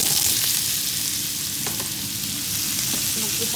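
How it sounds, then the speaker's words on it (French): Potatoes fry in hot oil, making a dense, continuous crackling sizzle that holds steady and close throughout, with no voices over it. "j'ai mis l'huile et je vais cuire les pommes de terre"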